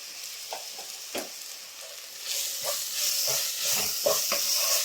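Pasta with masala and pepper powder being stirred in a frying pan, a steady hissing sizzle with occasional soft scrapes and taps of the spoon that grows louder partway through.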